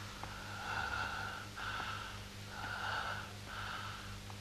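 Hoarse, raspy rattling breaths from a man, rasping in and out in a slow steady rhythm of about four strained breaths, close and fairly quiet over a low hum.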